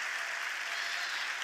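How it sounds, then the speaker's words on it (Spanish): Audience applause following a talk at an economic forum in Madrid, a steady, dense wash of clapping throughout the moment with no voices. "Fuerte aplauso."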